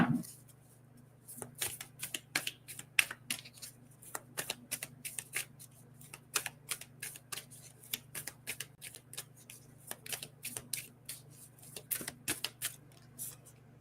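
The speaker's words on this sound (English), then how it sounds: "let's pull a couple of other cards here" Oracle cards shuffled and pulled during a reading, a steady run of quick crisp riffling flicks close up, with a low steady hum underneath and no talk.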